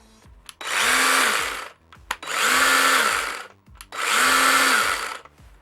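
Tekhmann i20 cordless garden saw runs in three bursts, each ramping up smoothly to a steady loud whine for about a second and a half, then cutting off, with short pauses between.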